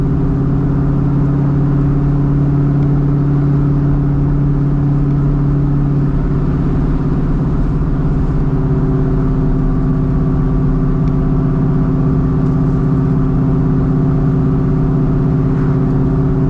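A 1997 Ford Mustang Cobra under wide-open throttle produces a loud, sustained engine drone with strong steady tones, heard continuously from inside the car without speech.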